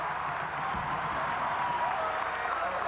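A basketball crowd at Ohio State's arena applauds during a 1983 game against Michigan State, a dense, steady wash of clapping that fills the whole stretch at a distance, with faint crowd murmur underneath.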